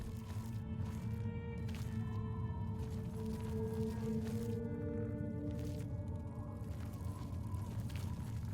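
Creaking, rattling skeleton enemy in The Elder Scrolls IV: Oblivion, heard as low, drawn-out groaning creaks and scattered clicks over a droning game ambience, with no talk.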